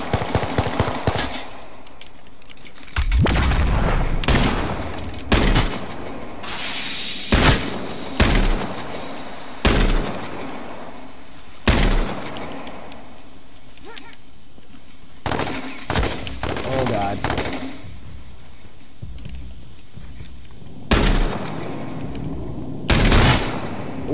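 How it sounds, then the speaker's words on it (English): Loud bursts of gunfire in the online survival shooter H1Z1, with heavy shotgun blasts and rapid automatic volleys in separate clusters, some near and punchy, others more distant, across a noisy battle soundscape. "Oh, this shotgun is dangerous."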